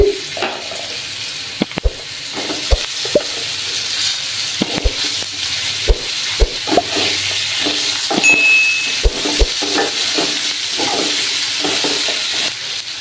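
Ridge gourd and potatoes frying in a pan make a steady, hissing sizzle close by, with sharp clicks and taps of a spatula against the pan at irregular moments, and no talking.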